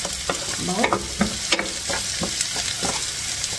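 Chicken pastil sizzles steadily in a hot pan while a utensil stirs and scrapes through it in quick, irregular strokes, close and clear with no voices.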